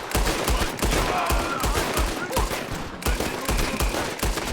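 Dense gunfire in Red Dead Redemption 2, rapid overlapping shots cracking in a continuous fusillade, loud and close, with several weapons firing at once and no pause across the span.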